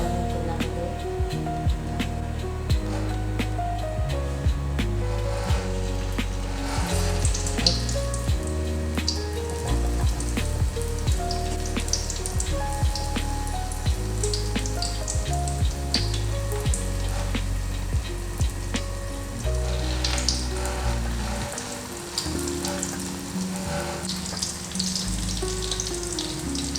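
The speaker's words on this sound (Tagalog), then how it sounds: "At magpiprito na tayo." Wrapped Filipino snacks frying in a pan of hot oil, a continuous dense crackling sizzle with scattered sharper pops, steady and close throughout.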